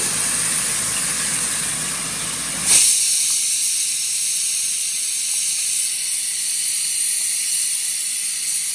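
Ground masala sizzling in melted sugar in a pan over a slow flame: a loud, steady hiss that shifts abruptly as the spices hit, then settles into a constant bright sizzle without talking.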